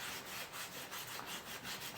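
Rust being scrubbed off a cast iron griddle, a close rhythmic back-and-forth rubbing with quick regular strokes.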